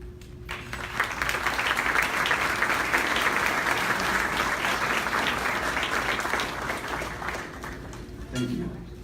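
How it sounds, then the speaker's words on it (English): Sustained applause from a large crowd, steady and dense clapping that fills the room for several seconds before easing off near the end. "please stand up for a round of applause"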